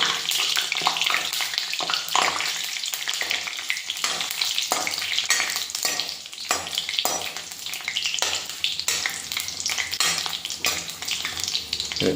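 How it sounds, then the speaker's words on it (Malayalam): Chillies frying in hot coconut oil, a loud continuous crackling sizzle with a spoon repeatedly stirring and scraping through the pan. "ഇനി ഈ വെളിച്ചെണ്ണയിലേക്ക് നമ്മൾ മുളക് ഇടാൻ പോവാണ്"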